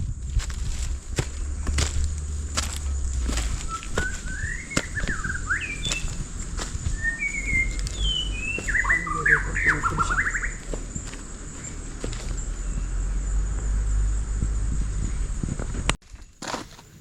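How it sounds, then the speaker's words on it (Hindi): Many birds call and chirp on a forested ghat road on the Kolhapur to Pawankhind and Ambaghat route: scattered chirps and short warbling phrases over a steady outdoor hiss and low rumble, with a few scuffing steps. "बहुत सारे पंछियों की आवाज़ आ रही थी।"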